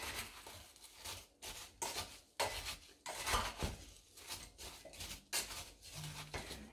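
Rhubarb pieces and sugar stirred in a pot, giving repeated scraping, rubbing strokes close by in an irregular rhythm with short pauses, no voices.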